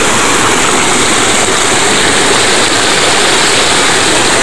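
A river stream runs in a steady, loud, unbroken rush of water, close by and without pauses, with no voices.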